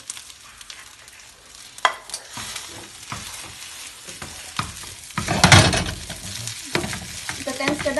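Rice fries in leftover cooking oil in a pan, a steady sizzle broken by scraping stirs of a spatula, with one louder hiss midway and faint voices in the background.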